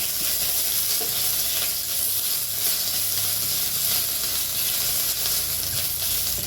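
Five-spice (panch phoron), a whole dried red chili and a bay leaf sizzle steadily in hot oil, a dense, even crackling hiss that stays loud and unbroken throughout with no talking.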